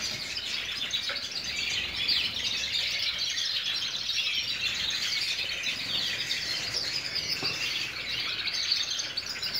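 Dense, continuous chirping and twittering of many small birds, high and bright, steady throughout like an aviary chorus close by, with no talk.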